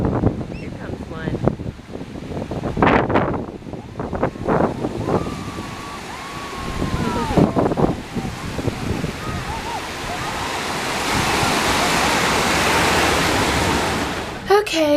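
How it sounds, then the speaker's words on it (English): Ocean waves breaking on a beach, a broad surf wash swelling into a steady roar in the second half, with people talking and shouting over the earlier waves and some wind buffeting. "Wait for a big wave."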